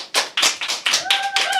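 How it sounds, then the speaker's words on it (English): Live applause from an audience at a recording and production listening party, a dense burst of clapping with uneven peaks that swells and holds across the short stretch, with a faint tonal hum under it. "Give him a round of applause."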